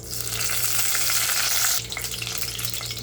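Curry leaves and pandan frying in hot oil give off a loud, steady sizzle that drops slightly partway through, then continues crackling.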